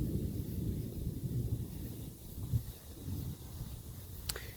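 Low thunder from an outdoor summer thunderstorm rumbles faintly and continuously in the distance, mixed with wind noise, and a brief sharp crackle comes near the end.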